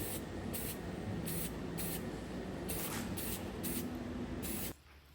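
Spray paint hisses from an aerosol can onto an art car in a series of short, close bursts, roughly eight quick sprays in a row before stopping.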